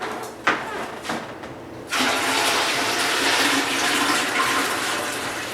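Water gushes steadily into a hot water canner being filled for canning pineapple, a broad rushing pour that starts after a couple of soft knocks and continues evenly at close range.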